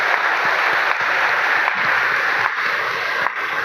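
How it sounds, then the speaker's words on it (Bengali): A congregation claps loudly during a church prayer and worship service, dense sustained applause-like clapping throughout, close and steady with no speech. "প্রভুকে ধন্যবাদ যে জোরে হাততালি দাও"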